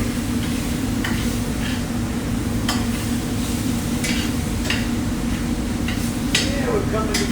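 Shrimp stirred through a hot pan as they cook, with a constant sizzle under repeated scraping and clinking of a utensil against the pan, fairly loud and close.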